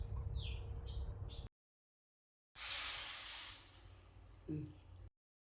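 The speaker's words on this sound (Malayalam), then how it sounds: "ഇതിലേക്ക് ചൂടാക്കി വെച്ചിരിക്കുന്ന ഒരു ഗ്ലാസ് വെള്ളം അതിലോട്ട് ചേർക്കണം" A glass of heated water is poured into a soya chunk dry fry in the pan, making a short hissing splash that fades, heard alone between silent gaps.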